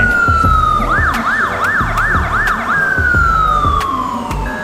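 A loud, close siren from a Code 3 emergency light bar with built-in speaker sweeps down in pitch, then yelps rapidly in a quick rising-falling pattern before settling into a long descending wail.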